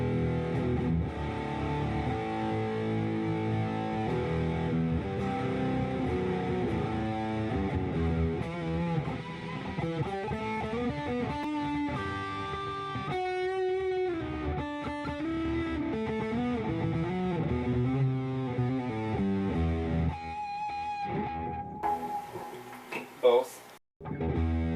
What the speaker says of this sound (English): This is my tube distortion setting,